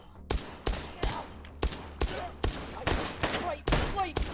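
Rapid, sharp gunshots from the virtual reality shooter H3VR ring out in quick succession, about a dozen loud cracks at a brisk, slightly uneven rhythm with short echoing tails.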